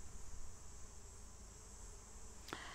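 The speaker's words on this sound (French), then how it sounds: "milieu de ces merveilleuses petites abeilles qui œuvrent toute la journée pour aller récupérer le pollen sur ces lavandes" Honeybees foraging on lavender make a steady, faint insect buzz that hums continuously on its own. A brief sharp click comes near the end.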